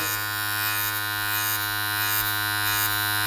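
Cheap Chinese electric hair clippers cutting hair in short, firmly pressed scooping strokes, a steady close-up electric buzz with a strong hum, holding continuous and even for a few seconds.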